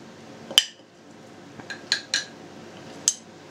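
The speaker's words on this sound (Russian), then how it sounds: "Следующим этапом отправляем в горшочки картошечку." Potatoes dropped into clay pots while cooking Lviv-style chanakhi: four or five sharp, close clinks and knocks spaced irregularly over a quiet background, with no talking.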